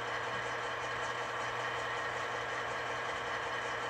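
MTH Veranda turbine locomotive with tender in HO scale, fitted with an ESU V5 sound decoder, idling with a steady, continuous mid-pitched engine drone and hum, moderately loud and unchanging throughout, with no talking.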